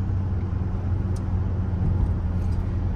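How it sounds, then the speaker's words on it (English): A 2007 Dodge Magnum SRT8 fitted with an SLP catback exhaust gives off a steady, low droning rumble while driving. It is constant and even, with no voices. "Just a minor amount of drone coming from that SLP catback exhaust."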